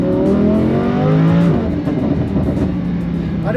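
A ten-year-old Lamborghini Huracan engine revs hard and loud, pitch climbing steadily, then drops back into a rumbling, crackling idle-like drone; no talking.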